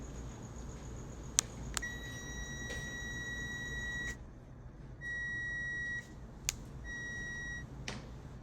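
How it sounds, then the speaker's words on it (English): A multimeter on a continuity test of a gas dryer's thermal fuse emits steady electronic beeps in three separate stretches, each lasting about a second or more, interrupted by sharp clicks from the probes. "If we hear a beep"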